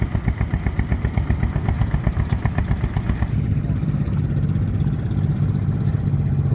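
A large horticultural tractor pulling a mid-mounted Allis-Chalmers plough, its engine chugging in a fast, steady beat up close, then settling into a smoother, continuous drone.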